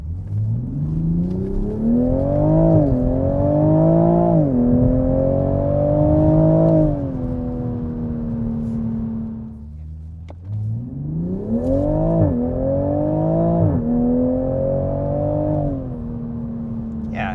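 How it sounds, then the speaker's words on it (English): A tuned 2020 Toyota Supra engine revs up through the gears in rising pulls, each shift dropping the pitch before the next climb, then settles to a steady cruise and accelerates hard again, loud and close from inside the car. "it's a pretty good sounding car, and it does the little flip downshift stuff"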